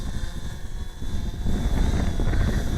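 A Kaiser Baas Delta drone hovers in wind, its propellers giving a steady whirring buzz under heavy wind rumble, close and fairly loud, rising slightly as more throttle is applied.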